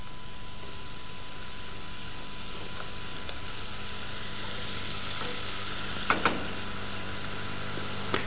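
Chopped onion and a bundle of herbs sauté gently in a pan, giving a steady, even hiss of frying close up, broken by a couple of brief clinks near the end and with no talking.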